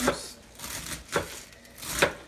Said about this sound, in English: cut it in small slices, nice and slim